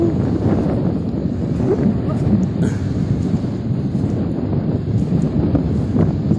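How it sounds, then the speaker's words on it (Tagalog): Strong, cold wind sweeps over a sand dune. It buffets the microphone with a steady, roaring rush that never lets up, and no one is speaking over it. "At malamig, napakalakas ng hangin."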